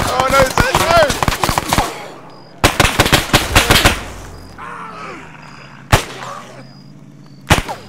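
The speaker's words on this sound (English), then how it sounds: "Gunning him down, boys!" Machine gun fire in the military shooter ArmA 3, bursts of sharp rapid shots with several pauses, followed later by lone loud cracks, with people talking over the first bursts.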